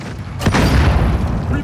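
In Call of Duty Modern Warfare Gunfight gameplay, a flashbang grenade goes off with a sudden loud boom followed by a ringing, washed-out rumble for about a second.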